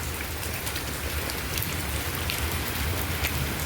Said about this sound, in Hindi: बारिश हो इतनी मज़ेदार किस्म की